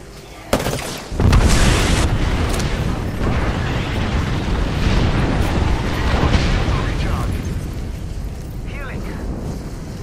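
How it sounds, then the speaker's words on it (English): Airstrike explosions in Apex Legends: two sharp cracking detonations open a long, loud rolling barrage of blasts and rumble, with voices talking over it. "Airstrike."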